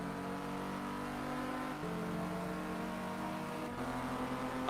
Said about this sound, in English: I heard the car go on the left-hand side